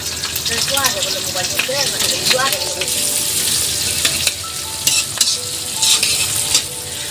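Chopped garlic, onion and green chillies frying in a pan, a loud close sizzle with stirring scrapes and clatters of a spatula, briefly overlaid by a voice early on.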